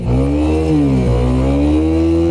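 A Honda CBR motorcycle with water in its exhaust silencer revs loudly up close, holding a sustained, strained engine note with brief dips as the bike fails to move forward.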